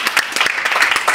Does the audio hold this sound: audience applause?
yes